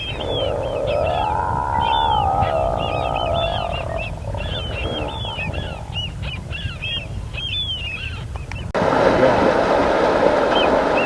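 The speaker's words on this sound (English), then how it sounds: "Those are seals." Seals near the water off Admiralty Island let out a long, wavering moan for a few seconds, then fade into chattering birds, before a steady rush of wind or boat noise takes over.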